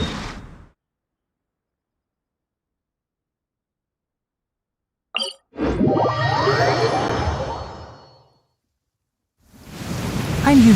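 Rain and thunder in Genshin Impact come in short bursts separated by silence: a sharp crack, then a rolling rumble with steady rain hiss lasting a few seconds, and later another swell of rain returning.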